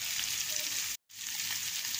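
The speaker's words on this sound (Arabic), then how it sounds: "رمينا التوابل بعد ما اتحمرت اللحمة مع الدهون، وبعد كده رمينا شرايح البصل." Meat browned in its fat sizzles with spices and onion slices for shawarma, a dense steady hiss close up that cuts out abruptly for a split second mid-clip before resuming, with no voices.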